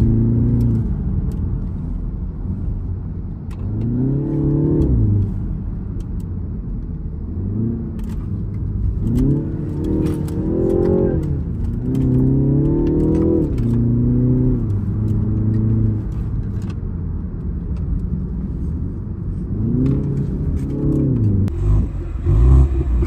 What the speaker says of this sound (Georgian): როგორც კი მოვახერხებთ გადავიღეთ 0-დან 100, რამდენ ხანში აჩქარდება.